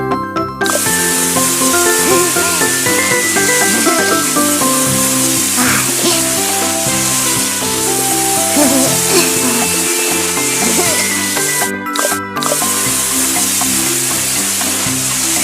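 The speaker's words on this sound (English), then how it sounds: "Now, let's wash everything off Scoop" In a cartoon, water sprays over a bulldozer in a loud, steady hissing wash that runs almost unbroken, with bright sound-effect tones layered over it and only two brief drops.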